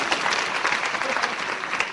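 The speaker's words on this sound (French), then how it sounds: "Applaudissez très fort pour lui" Loud, continuous applause from a comedy show audience, a dense, unbroken rush of clapping hands at close range for its whole brief span.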